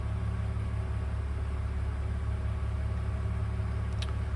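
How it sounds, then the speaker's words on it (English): A BMW E46 330ci engine idles steadily, a constant low hum with a faint mechanical whir, close and alone without talk, with a brief faint click near the end. "Run engine and idle."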